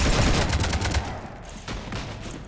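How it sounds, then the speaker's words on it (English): Rapid bursts of gunfire in the video game Mass Effect, shots hitting a ship, loud dense crackling volleys that fade slightly toward the end. "You want to stop shooting up my ship?"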